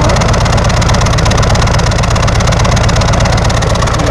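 A 2021 Harley-Davidson Street Glide Special idles on its stock exhaust with the valves closed. It gives a loud, close, continuous low-pitched rumble with an even, pulsing beat and no talking.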